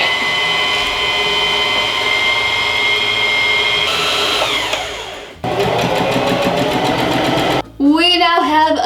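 A home sewing machine runs while a Dorothy Halloween costume skirt is sewn, giving a steady loud mechanical whir that slows and stops, then restarts in short bursts with a faster rattling stitch rhythm near the end.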